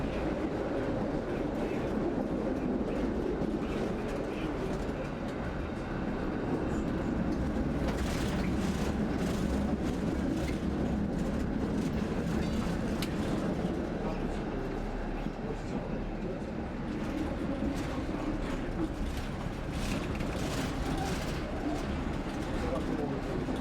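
A Brussels tram running fast on its own reserved track through green surroundings along a city avenue, a steady loud rumble with rhythmic wheel clatter throughout while someone narrates over it.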